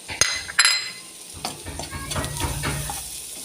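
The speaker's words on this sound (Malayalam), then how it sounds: "അരച്ച് വെച്ചിരിക്കുന്ന ഇഞ്ചി, വെളുത്തുള്ളി, പച്ചമുളക് പേസ്റ്റ് ചേർത്ത് കൊടുക്കാം" Ginger, garlic and green chili paste sizzling and frying with onions in a pan for egg biryani, with loud stirring and clinks of a spoon against the pot at the start, then steady close sizzle.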